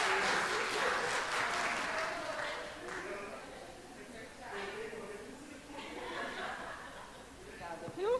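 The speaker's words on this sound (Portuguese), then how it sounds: "Palmas para ele, né, gente?" Audience applause at a talk, a steady patter of clapping mixed with chuckles and voices throughout, fading slightly mid-way and swelling again near the end.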